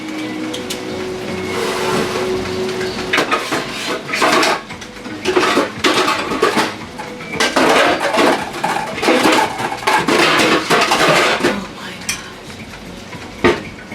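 A metal lid goes onto a cooking pot amid a run of clanks, scrapes and rattles of cookware and utensils, loud and close, in bursts separated by short quieter gaps, with no talk.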